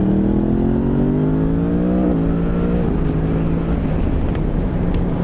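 A 2018 Yamaha MT-10 SP motorcycle engine revs loudly and steadily, its pitch climbing over several seconds with a metallic, rattly edge, heard alone without talk.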